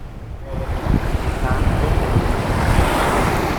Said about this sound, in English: This little buddy's going to listen to the sea sounds.